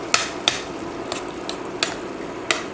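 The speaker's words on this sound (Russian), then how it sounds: "Морковка с луком обжарились и добавляем сейчас тушенку. Хорошо перемешиваем" Carrots, onions and stewed meat stirred in a pan give off a series of sharp scraping clacks at irregular intervals, roughly five strokes, over a soft steady frying hiss.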